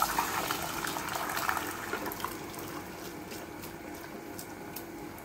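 Cooked rajma with its liquid poured into masala for a curry, a gushing, splashing pour that is strongest at the start and then settles into a softer, steady trickle.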